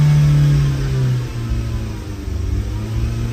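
A Suzuki Swift with a lean-mixture fault and an erratic air flow meter revs while accelerating toward 3000 rpm, a loud, close engine drone whose pitch rises and then settles into a steadier hum.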